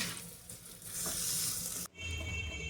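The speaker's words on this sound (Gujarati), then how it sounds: "તેલ આવી જાય એટલે એમાં દાબેલીનો પેસ્ટ વાળો મસાલો નાખી દેવાનો છે।" Dabeli masala paste fries in hot oil in a pan, a steady, fairly faint sizzle with a brief dip as it is stirred.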